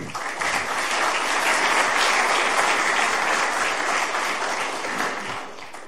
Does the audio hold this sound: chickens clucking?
no